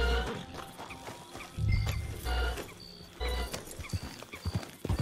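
A horse in the Red Dead Online video game whinnies amid steady clip-clopping hooves, with a few loud thumping hoof beats and no talking.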